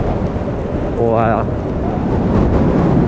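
Cold gusty wind buffets the microphone of a rider on an electric motorbike, a steady low roar throughout with a brief spoken exclamation partway through.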